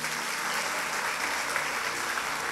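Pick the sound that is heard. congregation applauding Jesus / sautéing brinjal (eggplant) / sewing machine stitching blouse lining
congregation applauding Jesus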